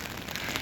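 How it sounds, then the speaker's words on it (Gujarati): Steady rain falling outdoors on a windy day, a faint, even wash of hissing patter with no distinct drops standing out. "જો વરસાદ ચાલુ હોય"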